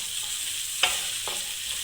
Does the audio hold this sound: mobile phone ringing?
no